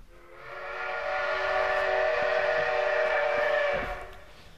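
At a railway station, a train sounds one long, steady whistle blast that swells up and then cuts off, loud and fairly close with no talk.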